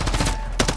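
Rapid automatic gunfire from an MCW rifle in Call of Duty: Modern Warfare III, a dense rattling stream of shots that fills the short clip and swells briefly near the end.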